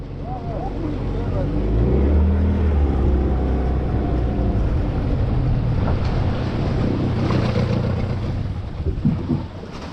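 A PND boat launched onto open water for its first trial run in spring, with wind buffeting the microphone and waves washing around it, while people talk in the background.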